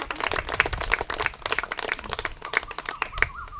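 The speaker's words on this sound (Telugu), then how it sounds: "దీనికి చప్పట్లు కొట్టండి" An audience at a meditation class held at a cow shelter in Machilipatnam claps along, with quick, uneven hand claps from a group that sound moderately loud and continue without talk.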